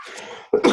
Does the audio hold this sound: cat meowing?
no